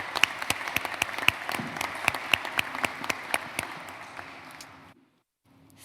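A small audience at a museum panel in Barcelona gives a round of applause, sparse distinct claps close by over a hushed room, tapering off and fading to silence near the end.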